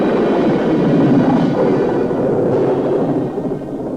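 Thunder on a 1969 auto tour tape rolls as a long, loud, continuous low rumble that fills the whole moment and eases off slightly toward the end.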